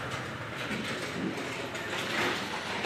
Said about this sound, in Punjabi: ਲੋ ਵੀ ਪੰਪ ਦਾ ਨਟ ਖੋਲਤਾ ਮਿਸਤਰੀ ਨੇ